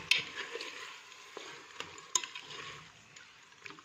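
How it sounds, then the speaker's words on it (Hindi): Chicken pieces with chilli are stirred and fried in a pan for shorba, giving a soft, even sizzle broken by several scraping clicks of a spoon against the pan. "तो यहाँ पर जी हम जो है वो चिकन को अच्छे से भुनेंगे।"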